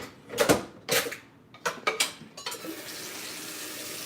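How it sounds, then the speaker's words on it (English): Tap water splashing into a pan at a kitchen sink while it is rinsed of custard from a coconut cream pie, heard as a few short bursts of spray, then a steady, softer run of water. "you need to run some water in that as soon as you can and get that out of your pan"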